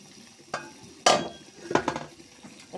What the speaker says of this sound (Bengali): তরকারিটা কষিয়ে নিছি